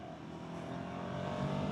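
A Ducati Hypermotard V2 pulls uphill under throttle, its engine note rising steadily in a loud, continuous drone heard from on the bike, with a rush of wind around it.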